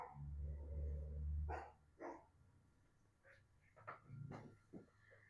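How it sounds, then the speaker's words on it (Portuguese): Pet dogs barking in a home, several short scattered yelps and barks at mid distance after a low rumbling start, fairly faint against the room. "minhas cachorrinhas vai começar a latir"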